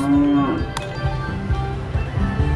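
Cows moo in the FarmVille farming video game, with a couple of low drawn-out calls standing out over continuous game music and effects.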